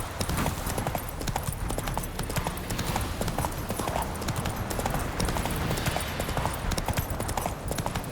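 Horse hooves clip-clopping in The Witcher 3 video game: a steady, dense gallop of rapid hoofbeats running the whole time over game ambience.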